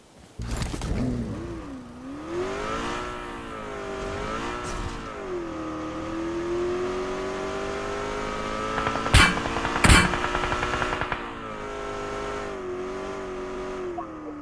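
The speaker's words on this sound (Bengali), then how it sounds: "গাড়ি নিয়ে এবার ওই হিল পর্যন্ত যান।" A car drives in the mobile game PUBG Mobile, its engine droning and rising and falling in pitch as it revs and shifts, steady and close, with a couple of sharp bangs partway through and no speech.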